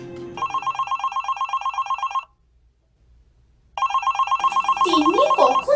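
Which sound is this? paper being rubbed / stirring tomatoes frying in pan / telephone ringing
telephone ringing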